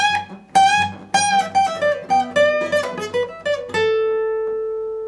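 Electric guitar plays the same stretch of the riff at full speed, a quick run of picked notes ending on one long sustained tone, with no voices.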